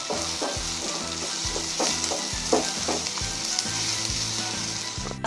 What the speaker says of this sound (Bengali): 2টি দারচিনির টুকরো, 10টি কালো গোলমরিচ, 3টি এলাচ। এগুলো দিয়ে হালকা ভেজে নিতে হবে।